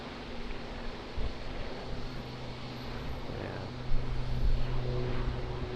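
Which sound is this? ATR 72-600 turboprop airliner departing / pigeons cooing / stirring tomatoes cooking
ATR 72-600 turboprop airliner departing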